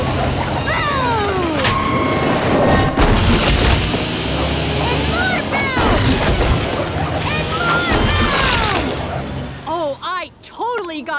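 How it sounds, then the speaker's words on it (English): A cartoon character smashes up an icy stream with booming crashes, loud and dense in a busy mix under lively voices and pitch-sliding cartoon effects. "Would you mind coming down here to break up the icy stream?"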